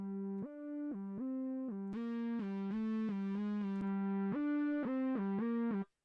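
Distorted synth playing a short riff of sustained buzzy notes stepping between two pitches, each note rich in gritty overtones, with a brief detune-like sweep near the end; loud, close and steady with no voices until it cuts off.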